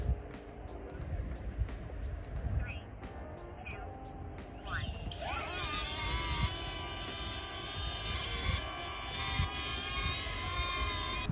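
A DJI Neo compact drone launching in rocket mode, rising straight up with a steady high-pitched rotor whine that swells and holds after the first few seconds, over background noise.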